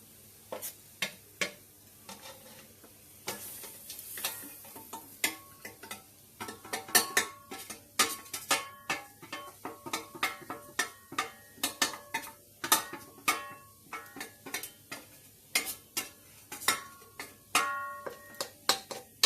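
Ground spices and masala for chicken curry—fennel, pepper, coriander, chilli, turmeric, chicken masala—sautéed in a pan, with a steady string of sharp spoon scrapes and clinks against the metal over a soft sizzle, close and fairly loud, no talking.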